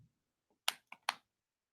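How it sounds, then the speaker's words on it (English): A few sharp key clicks on a computer keyboard, three distinct taps close together, nearby and fairly quiet, with no one talking. "Unless I'm typing it wrong."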